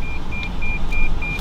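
Repeated electronic beeps at a fast food drive-through, short tones sounding about every quarter second over a steady low car engine idle, close and fairly loud.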